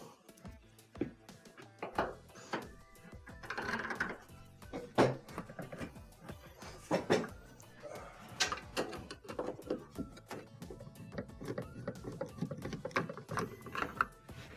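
Phillips screws come out of a GE washer's console, with faint irregular clicks, ratcheting and small metallic taps from a screwdriver, close and quiet, with no talk.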